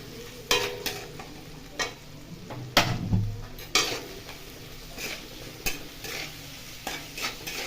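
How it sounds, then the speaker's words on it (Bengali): Masala spices for fried masala idli sizzle in a pan while being stirred, with a soft steady fry and several sharp scraping clinks of a spoon against the metal, close by. "এবার এটাকে ভালো করে ফ্রাই করে নেব"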